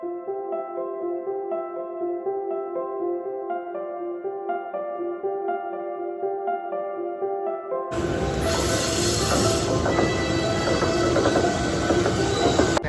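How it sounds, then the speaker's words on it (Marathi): Music with sustained tones plays at first. Then the loud, broad rumble and rattle of a train running on rails takes over, steady and close for the remaining seconds. "आता आपण जी ट्रेन पकडली आहे"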